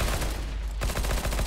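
Rapid automatic gunfire from a weapon in Counter-Strike: Global Offensive, a dense, loud, continuous rattle of shots that drops out briefly and then resumes in a fast run.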